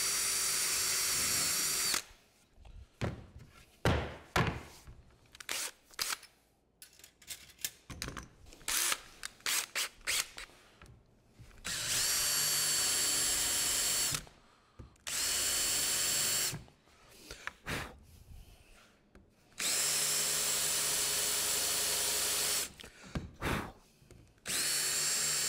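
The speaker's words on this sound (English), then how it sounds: "if you drill through into another piece of wood" A power drill bores through wood during a dovetail jig box build, in several loud sustained bursts separated by pauses filled with clattering handling noises, with no talking.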